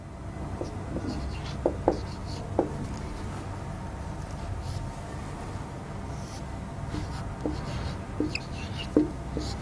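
Pen or chalk writing out Urdu vocabulary during a classroom lecture, heard as soft scratchy strokes with a few sharper taps, fairly close but quiet over a steady room hum, with no talking.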